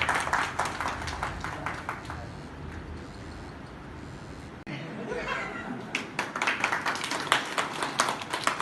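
Crowd clapping at a Guru Purnima worship ceremony at a Kabir ashram in Vastral, a sparse patter of claps that thickens into fuller applause, mixed with background chatter and a voice.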